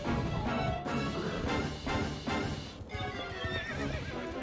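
Video game horse combat battle: hooves gallop in a rapid clip-clop while horses neigh and whinny repeatedly, all loud and dense amid clashing battle noise, with no one talking.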